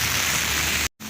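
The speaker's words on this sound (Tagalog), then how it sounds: "ganyan kalakas ang hangin at ang ulan" Strong wind and heavy rain roar as a dense, steady hiss at close range, broken by a brief dropout near the end before the noise resumes.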